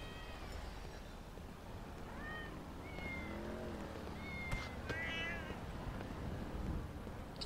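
A cat meows repeatedly in the video game GTA V, several rising and falling mews spread over a few seconds, fairly close and moderately loud above a low rumbling background.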